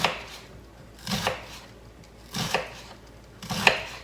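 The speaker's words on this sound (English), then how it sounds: "So I'm just going to chop about a quarter of it." Knife chopping through a large onion on a cutting board, three distinct, unhurried chops spaced about a second and a half apart, close and clear with quiet between them.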